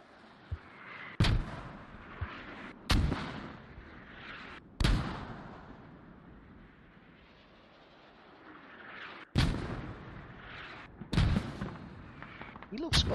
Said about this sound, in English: Oh, mortars. I haven't had some mortars for a little while.